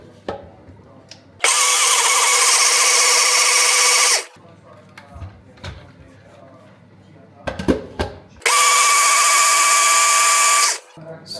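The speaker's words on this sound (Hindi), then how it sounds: "So I've been using this NutriBullet grinder for since 2021 I think" A NutriBullet grinder whirs loudly in two long bursts while grinding palak paneer ingredients, with quieter kitchen handling, clinks and brief talk between runs.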